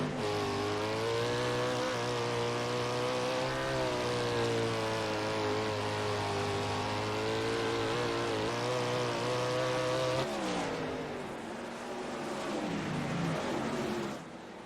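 410 sprint cars race on a dirt track, their engines roaring loud and continuous with rising and falling pitch as the pack passes close by, then easing slightly toward the end.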